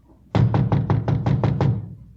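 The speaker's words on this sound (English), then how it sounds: "Frank and I went up to the 4th floor and knocked at the door." Eight quick, evenly spaced raps on an apartment door on a fourth floor, close and sharp, in a steady rhythm with no voices.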